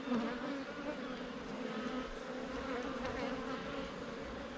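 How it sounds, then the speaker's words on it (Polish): Agitated honeybees buzz in a dense, steady drone at a hive, close and moderately loud, with no talking. "Pszczoły się niepokoją."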